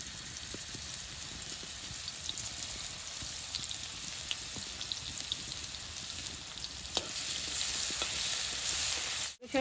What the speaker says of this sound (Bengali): তেলটা গরম হয়েছে, রসুনটা তেলের মধ্যে দিয়ে দিব।